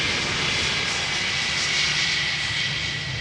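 Loud, steady roar of an Electra Airways passenger jet arriving at Amsterdam Schiphol Airport, a broad continuous engine rush with a high whine, sustained and fairly near, with no talking.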